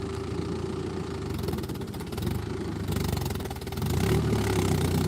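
A new farm vehicle's engine idling at a paddy farm, a steady close rumbling drone with a faint rhythmic knock that swells slightly louder toward the end.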